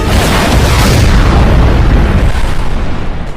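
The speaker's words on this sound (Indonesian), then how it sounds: "para tentara Burma itu masuk ke dalam jebakan Rambo dan meledakkan bom itu bersama mereka" A bomb blast from a jungle battle in the 2008 Rambo film fills the clip with a loud, sustained roaring explosion that rumbles broadly and slowly fades toward the end.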